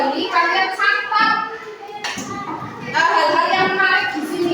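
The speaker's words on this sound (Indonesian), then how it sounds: "Tepuk tangan" A classroom of children claps hands in quick bursts, some rhythmic, while a teacher's voice speaks over and between the clapping.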